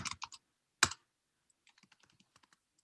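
Code typed on a computer keyboard: a few sharp, close keystrokes come in a short burst, followed after a pause by a quieter run of light taps.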